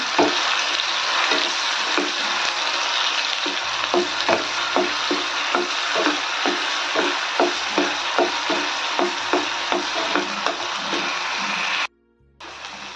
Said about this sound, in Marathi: याला छान परतून घेऊया